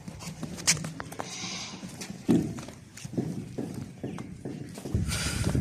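A large Makhi Cheena goat walked along on a farm in Pakistan, its hooves clip-clopping in an uneven series of close, fairly quiet steps, with light rustling and occasional faint background voices.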